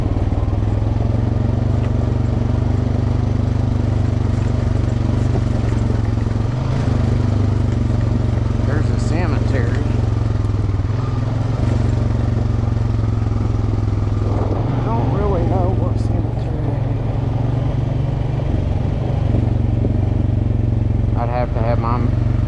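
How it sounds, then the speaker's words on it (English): A motorcycle engine runs steadily on the Hatfield-McCoy trails during a rainstorm after a downshift, giving a loud, close, continuous low hum with occasional rattles and clatter. "Let me downshift."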